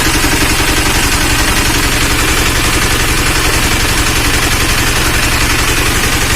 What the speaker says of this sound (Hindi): इंजन मेरा स्टार्ट हो गया अभी।